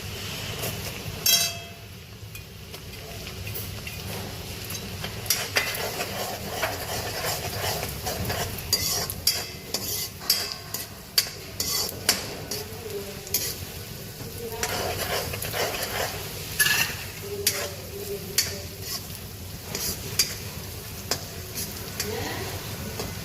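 Garlic sautéing in a pan for pav bhaji, with steady sizzling, repeated scraping and stirring clinks throughout, a few sharp clatters and a faint dog bark mixed in.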